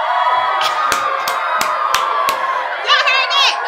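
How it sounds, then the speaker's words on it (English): A played applause sound effect of crowd clapping and cheering with children's shouts, rising under a person talking over it, with sharp clicks throughout. "I'm going to give you guys a round of applause."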